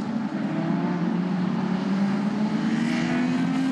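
Formula Renault Eurocup race cars at the Nürburgring sweep through the Advan Bogen section toward the chicane, a sustained engine drone with a slowly rising pitch, fairly loud and somewhat distant, with no talk over it.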